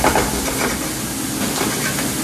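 Garlic, onions and peppers frying in a pan for chicken fried rice, a steady close broadband sizzle with light stirring scrapes running throughout, no talking.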